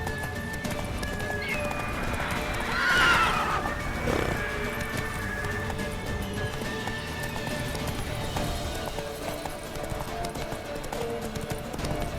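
A horse in The Witcher 3 video game gallops with a steady clip-clop of hooves and lets out a loud whinny early on, over a constant game ambience.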